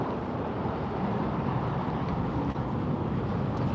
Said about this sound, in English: I want to show you just an indication of how strong these winds are